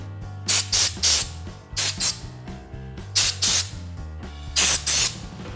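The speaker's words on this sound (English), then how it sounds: "just a little compressed air works great" Compressed air bursts blasting dust from Browning shotgun parts in a storage room, about seven short hissing spurts in pairs and threes over a steady low hum, close and loud.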